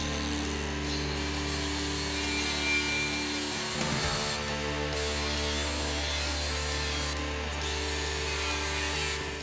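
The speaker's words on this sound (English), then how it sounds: "we need to grind some bare metal pieces here and maybe here for the ground" A power grinder works bare metal on a classic Mopar car body, a steady close-up abrasive whine with constant hum and rasping texture, briefly dipping midway, with no talking.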